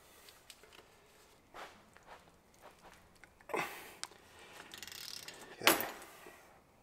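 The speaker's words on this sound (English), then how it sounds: "We're gonna take those out with a ratchet." A ratchet loosens the 17mm brake rotor bolts on a Mini during a brake job: sparse clicks early on, then two louder bursts of rapid metallic ratcheting close by, with no talk.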